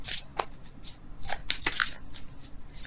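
Tarot cards being shuffled to draw another card: a run of crisp, papery riffling bursts and soft slaps, close and fairly quiet, with no talking.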